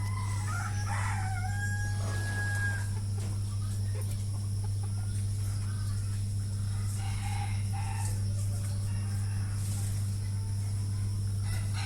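Desi chickens on a farm cluck and crow, with a few scattered calls over a steady low hum in an open barnyard; no talk is heard.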